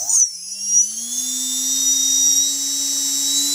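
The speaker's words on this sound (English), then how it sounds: "if you run up a motor, which I will do" Small electric RC motor spinning up on a ToolKitRC WM150 watt meter test, a sharp rising whine that settles into a steady high-pitched drone with a constant lower hum beneath, close and loud.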